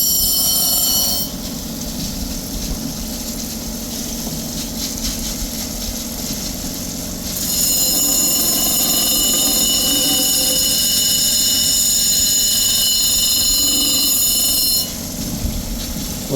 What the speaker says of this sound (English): What I'm trying to do is cut a cross section into the stone to see if I can expose any of the color layers